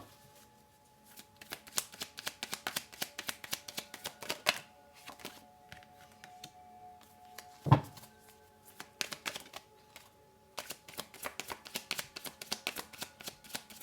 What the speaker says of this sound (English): let me just pull out the cards